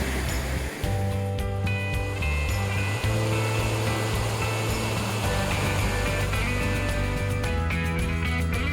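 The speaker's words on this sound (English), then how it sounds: "And it looks like there's a waterfall." A waterfall roars along a backpacking trail on the Mount Sterling–Little Cataloochee loop in the Great Smoky Mountains, a loud, steady, broadband rush of falling water that fills the whole stretch without pause.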